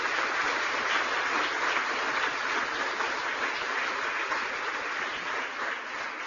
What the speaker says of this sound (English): Let's give all the champions a round of applause